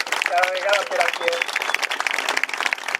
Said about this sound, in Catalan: jo crec que en un aplaudiment com fem cada vegada per aquí